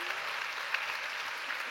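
Applause from a studio or talk-show audience, a dense, steady wash of many hands at moderate distance, continuing evenly for a short stretch with no voices rising above it.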